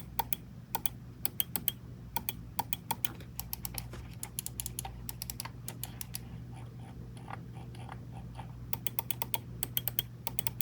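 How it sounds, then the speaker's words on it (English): Repeated sharp button clicks from a Logitech G Pro X Superlight 2 wireless gaming mouse, fired in quick bursts and short runs with brief pauses, close and crisp over a steady low hum. "Okay, click sound test."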